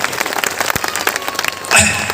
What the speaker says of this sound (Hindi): जोरदार ताली होनी चाहिए ऐसे ग्रेट मेंटर के लिए